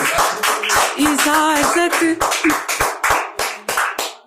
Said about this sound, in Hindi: बहुत धन्यवाद आप सबके तालियों के लिए